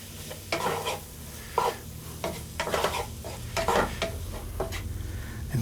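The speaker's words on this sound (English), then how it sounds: "I'm gonna stir in my riced cauliflower." Riced cauliflower is stirred into a hot pan seasoned with fish sauce for keto fried rice, with close utensil scrapes and clatter over a steady background sizzle and no speech.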